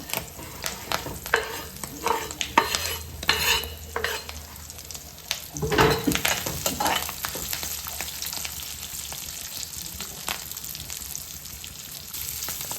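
Onions frying with green chillies in a pan, a steady sizzle broken by repeated scraping and stirring strokes, close and fairly loud, with a few clinks of the utensil.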